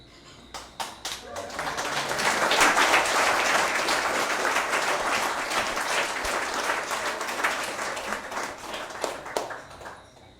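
After a presentation by turtle experts Devon and Giovanni, a room of people applauds. A few sharp individual claps build quickly into sustained, even clapping that lasts about ten seconds before tapering off.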